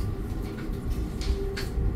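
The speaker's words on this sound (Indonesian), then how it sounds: "9:16 kita berangkat dari stasiun Surabaya Gubeng" Passenger train pulling out of Surabaya Gubeng station in Indonesia, a steady low rumble with a faint hum and a couple of brief higher hisses, heard from inside the train.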